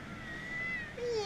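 A single soft, drawn-out meow rising and falling, followed by a brief higher mew at the end, faint and close, no speech.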